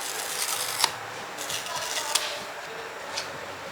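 An iPhone 15 box is unboxed. Soft rustling and sliding of cardboard and plastic wrap are broken by a few sharp clicks and snaps of packaging, close up and quiet, with no talking.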